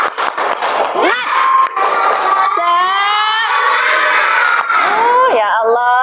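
A class of schoolchildren shouts together during a clapping chant, with bright rising voices in bursts and a few sharp claps, loud and close, ending in a final cheer.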